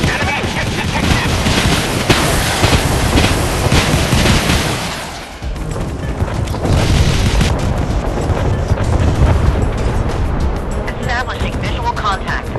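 Warship guns and missile hits boom in Force of Warships, a continuous barrage of heavy explosions and rapid fire, loud and close, with a brief lull near the middle and voices speaking over the battle.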